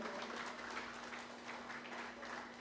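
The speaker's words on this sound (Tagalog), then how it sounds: "bigay po natin ng malakas na palakpak para sa Panginoon" Steady broadband applause from a church congregation, dense and continuous throughout at a moderate distance, with a constant low hum running underneath.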